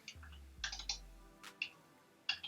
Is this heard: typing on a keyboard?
yes